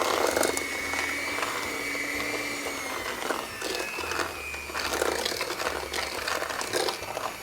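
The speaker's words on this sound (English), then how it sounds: "get our hand mixer and we're going to mix this, or rather cream it for about 5 to 6 minutes" Electric hand mixer creaming butter for a Trinidadian black fruit cake, a steady whirring motor drone with a slight wavering pitch and scraping against the bowl, continuous and fairly close throughout.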